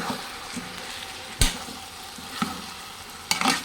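Chicken curry being stirred in a sizzling pan, with continuous frying crackle and a few sharp spoon knocks against the pan spaced across the stir, close and clear with no talking.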